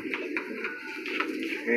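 A young pigeon held in the hands of a breeder gives soft repeated cooing calls close to the microphone, over a steady background hum.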